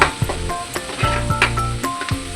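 Ginger garlic paste fries in hot oil with onions for egg fried rice, giving a steady loud close sizzle broken by a few clinks and scrapes of a spoon against the pan.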